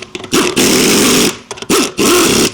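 A power tool, probably an impact wrench, tightens the lug nuts on a boat trailer wheel in loud, close, buzzing bursts. Each burst lasts under a second, with short pauses and a stuttering start between them.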